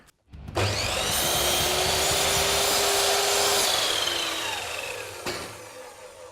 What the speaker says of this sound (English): now I'm going to cut it off at the 16 centimetres, 160 mil.